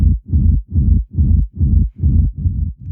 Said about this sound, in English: this rumble is just filling the gaps when like the basses hit